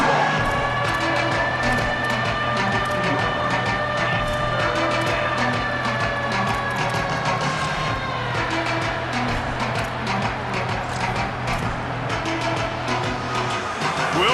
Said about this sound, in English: this crowd bearing down and getting loud on third down